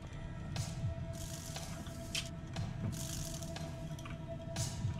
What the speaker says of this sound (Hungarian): Ilyen hangosan csöpög a csap?